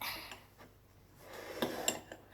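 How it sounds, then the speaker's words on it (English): A spoon stirring hot chocolate in a cup, with light metallic clinks and taps against the sides coming irregularly, faint and close, growing a little busier toward the end. "And then I'm going to stir it"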